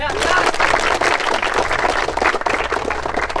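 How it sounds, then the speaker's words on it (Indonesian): A crowd of students at an army regiment barracks claps in a dense, fairly loud burst, mixed with shouts and voices throughout. "Tepuk tangan ya."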